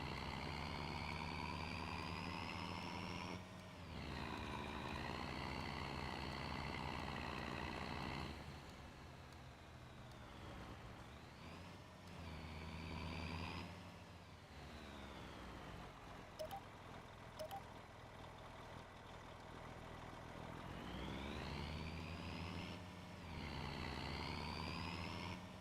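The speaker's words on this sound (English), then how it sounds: "That truck is really loud, sorry." Truck engine in the farming video game Farming Simulator 25, a loud steady drone with rising and falling revs as gears shift, close and continuous throughout.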